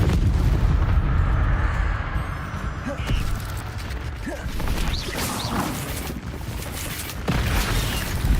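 Casting the Incendio fire spell in Hogwarts Legacy sets off a busy stretch of combat effects: repeated thumping blasts, bangs and whooshing bursts spread over several seconds, loud and layered.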